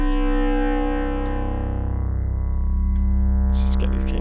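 A Mutable Instruments Beads synth module plays its raw, unprocessed tone, a loud sustained buzzy drone rich in harmonics that holds steady for several seconds with slight shifts in timbre.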